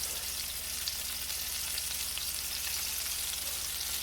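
Onion rings fry in deep grease, a constant dense crackling sizzle that holds steady and close throughout with no talking.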